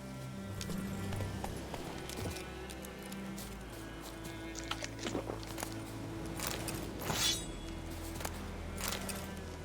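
Roach, a horse in The Witcher 3: Wild Hunt, gallops with rapid rhythmic hoofbeats and a few clinks, set against a quiet game ambience and heard at a moderate distance.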